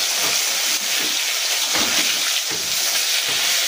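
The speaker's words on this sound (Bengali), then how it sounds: "আগে এটা ভাজা হোক, তারপরে তুলে নিয়ে অন্য মাছগুলো ভাজবো ভালো করে" Katla fish pieces fry loudly in a pan of hot oil, a dense, continuous sizzling spatter with soft bumps as pieces are turned over.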